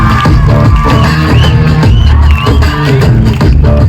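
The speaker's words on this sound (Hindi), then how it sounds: "जोरदार तालियां एक बार।" A loud crowd cheers and whoops at a school farewell program, the noise thick and continuous, with music and shouting voices layered over the applause.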